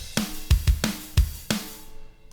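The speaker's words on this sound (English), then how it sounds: "Or you could go with something a little bit more pop punk, that's normal time." A normal-time pop punk drum groove from a DIY punk rock MIDI pack, with punchy kicks and cracking snare hits under washy cymbals; the groove stops and the ring fades out.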